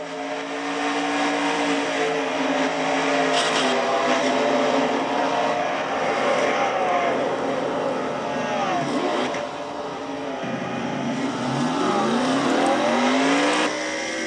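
Onboard a stock car racing at Bristol, the engine roars loud and continuous through a frightening slide, pitch sweeping and revving up and down as the car twitches.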